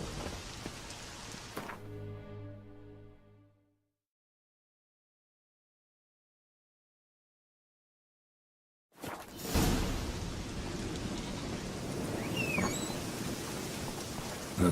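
Rain falls in a Witcher 3 game scene, a steady hiss that fades out into several seconds of silence, then returns heavier with rumbling low noise like distant thunder.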